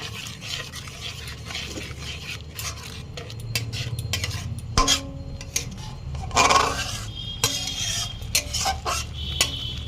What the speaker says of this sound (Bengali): 1 চামচ ভিনিগার দিয়ে ভালো করে মিশিয়ে নেব